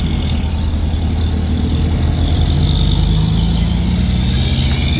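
A 2017 Chevy Silverado pickup engine, newly fitted with a replacement starter, runs at a steady low idle, a continuous near rumble with no voices.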